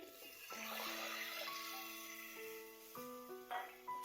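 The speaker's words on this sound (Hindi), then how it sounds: "अब वक्त है कि इसमें हम पानी शामिल करें। तकरीबन 1 गिलास पानी शामिल करेंगे" About a glass of water pours into a pan of roasted fennel curry, a steady splashing pour lasting a few seconds over faint tonal background music.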